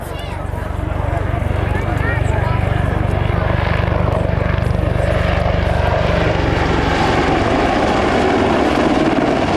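Military helicopter at an air show at Quonset ANGB, passing in a high G maneuver, its rotor and engine roar building and holding loud and steady, with an announcer talking over it.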